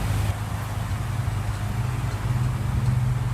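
A 2014 BMW M5 F10 engine idling in black sapphire metallic, heard as a steady low rumble under broad hiss, fairly quiet and continuous with no talking.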